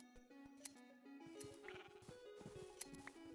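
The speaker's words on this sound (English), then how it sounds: "now let's shear sheep" Sheep bleat in a farming video game while being sheared, a few bleats sounding over a steady tonal game music bed, fairly quiet and without talk.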